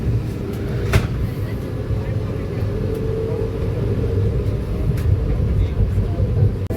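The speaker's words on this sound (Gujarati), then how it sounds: "વાગી ગયા છે 9:16 અને ટ્રેન ફાઇનલી ઉપડી ગઈ છે" Vande Bharat Express train pulling out of Surat station, a steady low rumble and rolling noise heard from on board, continuous and moderately loud with a brief click near the start.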